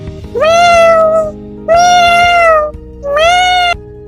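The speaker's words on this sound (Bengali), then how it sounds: "শব্দ বের হয় বিড়ালের মতো, মিউ মিউ করে।" A cartoon tiger's roar comes out as a cat's meow: three loud, drawn-out meows, each about a second long, with short pauses between them.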